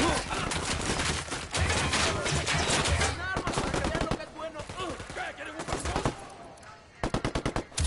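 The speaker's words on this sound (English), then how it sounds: "Taking fire from the camp entrance." Dense bursts of automatic gunfire in the Ghost Recon Wildlands shooter game, loud and close, with rapid volleys, a brief lull, then more firing while voices speak under the shooting.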